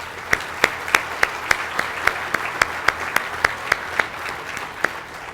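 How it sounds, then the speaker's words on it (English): Sparse, evenly paced clapping, a few hands striking sharply in a steady rhythm close by over a quiet room. "Can we please give these individuals a round of applause?"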